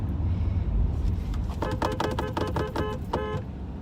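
A car horn honks in traffic in a rapid series of short, bright blasts, heard from inside a moving car over a steady low road rumble, with no voices.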